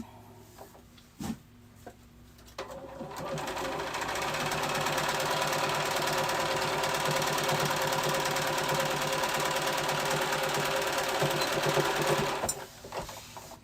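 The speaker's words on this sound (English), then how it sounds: "So I'm just going to close this up across here. I'm just going to top stitch it." Sewing machine top stitching across a MuuMuu dress, a steady fast mechanical whir that starts after a few quiet seconds, runs close and continuous for about ten seconds, then stops.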